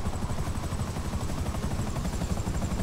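Helicopter in a GTA 5 bunker resupply mission, its rotor chop steady and continuous throughout, with no talk over it.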